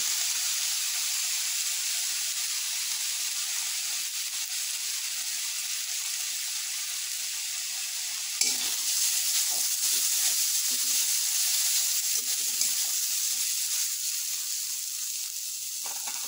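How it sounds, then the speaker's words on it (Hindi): Chili powder and masala fry in hot oil for a traditional Odia banana flower dish, giving a steady close sizzle and hiss that jumps with a sudden louder burst midway and then keeps crackling on alone. "वन टेबल स्पून मु चिली पाउडर पकाउची"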